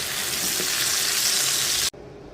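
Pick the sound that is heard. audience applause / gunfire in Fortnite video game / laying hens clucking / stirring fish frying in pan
stirring fish frying in pan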